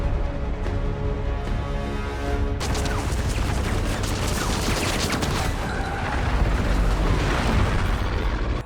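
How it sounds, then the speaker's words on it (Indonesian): Loud, dense machine-gun fire from two aircraft strafing a truck rattles nonstop in rapid bursts, with a low droning engine hum underneath at the start. "2 pesawat itu mencecarnya dengan tembakan"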